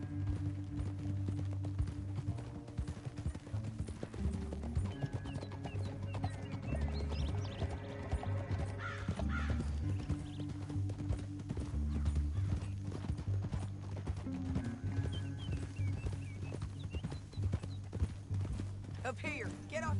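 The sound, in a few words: horses' hooves clip-clopping while riding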